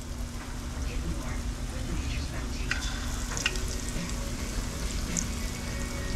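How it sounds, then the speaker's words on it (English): Beer-battered trout sizzling in hot oil while frying at a jetty catch-and-cook, a steady dense crackle with a low hum and occasional stirring clinks. "The sizzling is real, folks."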